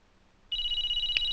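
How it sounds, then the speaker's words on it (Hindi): A telephone rings in a Hindi film scene: a steady electronic ringtone cuts in after a brief quiet moment and holds on, fairly soft, with no voices over it. "किसका फोन है?"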